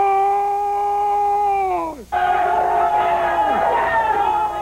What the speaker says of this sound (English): Cantor's long-winded howl has become sweet music to millions of Latins